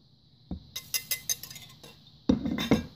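Metal spoon clinking and scraping against a bowl while dinner roll dough ingredients are stirred together, a quick run of light taps followed by a louder burst of scraping and knocks near the end.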